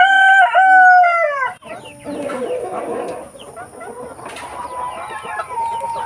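A rooster among Siamo heritage crossbred free-range farm chickens crows loudly and close at the start, then clucking and murmuring from the flock continue steadily.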